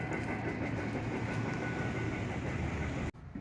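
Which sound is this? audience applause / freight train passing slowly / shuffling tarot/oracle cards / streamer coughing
freight train passing slowly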